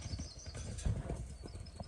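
Faint, soft clip-clop of a horse's hooves as it moves laps around a pen, a loose uneven rhythm heard at a distance through background noise.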